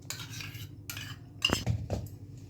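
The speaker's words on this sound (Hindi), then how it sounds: "दही को हम बाउल में खाली कर लेते हैं" Spoon scrapes and clinks against a bowl as curd is emptied into another bowl, a few close knocks and scraping taps over a couple of seconds.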